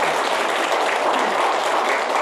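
An audience at a redevelopment and reconstruction lecture bursts into continuous, loud applause, a thick wash of clapping throughout with no pauses.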